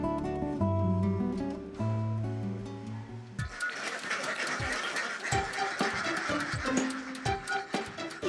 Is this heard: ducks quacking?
yes